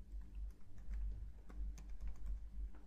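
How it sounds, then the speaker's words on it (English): Password typed on a computer keyboard, with a steady run of close, light key clicks spread across the whole stretch and no talking. "And then type here the password"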